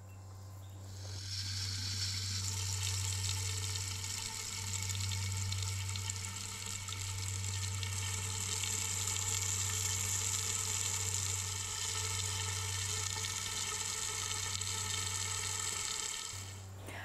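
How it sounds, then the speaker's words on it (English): Water runs steadily through the fill tube into an AquaPot Lite self-watering planter, a continuous close hiss and gurgle with a low hum underneath, holding level for the whole stretch without talk. "use the water fill tube, and we're going to fill that up"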